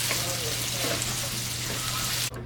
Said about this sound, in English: And now I'll cook the sausage.